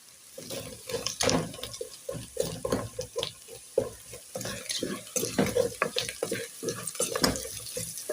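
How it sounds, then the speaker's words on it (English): Onions frying with salt and a Royco stock cube for cabbage beef, stirred in a pan: a steady sizzle under repeated scraping and clinking strokes of the spoon, close and fairly loud throughout. "And now let me stir"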